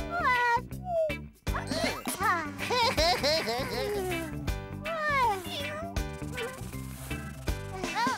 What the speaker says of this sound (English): Oh, it's only the little black cat.